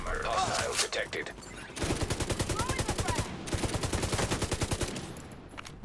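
Fully automatic L86 rifle fire in a video game comes in two long rapid bursts of closely spaced shots, loud and near, with a brief voice before the firing starts.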